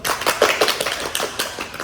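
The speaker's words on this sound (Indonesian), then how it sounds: "Tepuk tangan dulu dong." A short burst of hand clapping from a small group, quick and uneven, with no voices.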